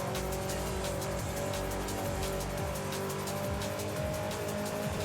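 A racing car in the video game Forza Horizon 5 roars continuously at high revs, its engine loud and dense throughout, with intermittent tire squeal over a constant wash of road noise.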